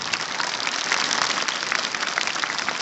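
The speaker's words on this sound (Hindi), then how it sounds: "एक बार बहुत जोरदार तालियां बजा दीजिए कक्षा 11वीं के बच्चों के लिए" An audience applauding class 11 students at a school Christmas celebration, dense continuous clapping like heavy rain, loud and sustained with no break.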